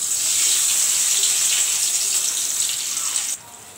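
Stuffed teasel gourd with a prawn filling dropped into hot oil, giving a loud, steady, hissing sizzle that drops off suddenly near the end, with no voices.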